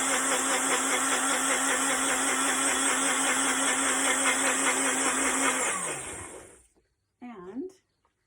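A milk frother whirs steadily while frothing for a matcha latte, a loud, buzzy, high-pitched drone lasting about six seconds before winding down, followed by a short burst of a voice.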